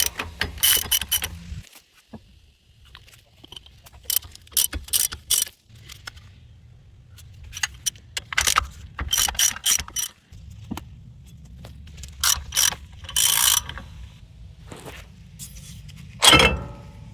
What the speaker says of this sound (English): holding this plate that retains the axle in the housing. I'm going to remove those. And these nuts are 9/16.